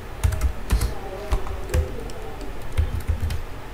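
Rapid typing on a computer keyboard, a close, steady run of crisp key clicks and thumps with uneven rhythm, heard alone.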